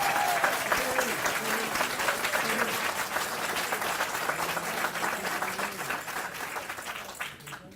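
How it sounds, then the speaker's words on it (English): A live audience at a Miami roast event breaks into sustained applause for Carmen, dense clapping that stays strong throughout before fading slightly at the end. "I'd like to stop right now for a quick round of applause for Carmen"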